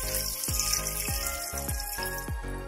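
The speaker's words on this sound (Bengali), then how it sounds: "গরম জল ইউজ করে দিচ্ছি।" Hot water pours steadily into a pressure cooker holding cooked mutton, a continuous splashing stream with a rhythmic glugging pulse.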